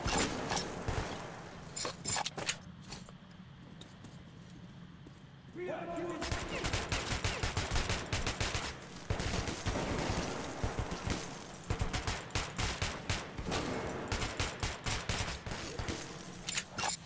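Gunfire in the shooter game Metro 2033, bursts of rapid shots that stop for a quiet lull, then return as dense, repeated firing with a voice talking over parts of it.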